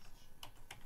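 Computer keyboard keys pressed while typing a username, a few quiet separate clicks spaced apart, faint and close in a quiet room.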